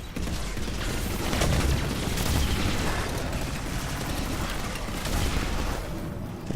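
Incoming gunfire in Mass Effect 3, a steady, loud, crackling barrage of rapid shots and mechanical clatter filling the whole stretch without pause, with no talking.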